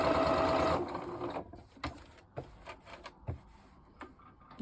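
A sewing machine runs a steady burst of stitching around the edge of a fabric square, then stops, leaving quiet scattered knocks and clicks as the fabric is handled.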